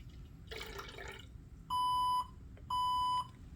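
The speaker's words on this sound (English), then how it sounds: "Here you can see our alarm has alerted again" Two long, steady electronic beeps from a blood loss monitor alarm for operating rooms, evenly spaced and loud, after a brief rustling noise.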